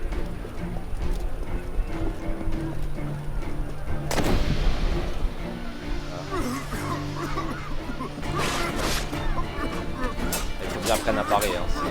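Gunfire in the Assassin's Creed Black Flag video game, sharp shots cutting through a busy scene of horse hooves clip-clopping and neighing, with someone speaking French over the action.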